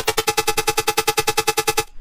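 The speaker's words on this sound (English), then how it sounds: "So this is just a simple FM kind of stab thingy." A simple dry FM synth stab without post-processing, repeating in a fast even pulse of about a dozen bright hits before cutting off abruptly.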